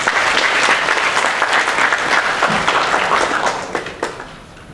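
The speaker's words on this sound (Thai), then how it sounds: "ขอเสียงปรบมือด้วยค่ะ" Seminar audience breaks into steady, fairly loud applause from many hands, holding evenly before thinning out and fading near the end.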